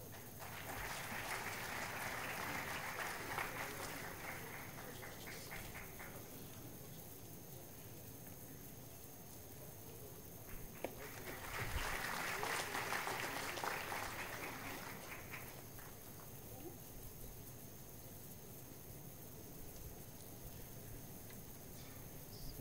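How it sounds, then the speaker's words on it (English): Two rounds of audience applause at a university convocation ceremony, a dense crackle of clapping from a crowd that swells, holds several seconds and fades, separated by a quieter stretch of room noise. "I request you to have a round of applause to this meritorious students"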